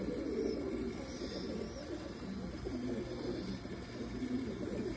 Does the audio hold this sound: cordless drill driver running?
no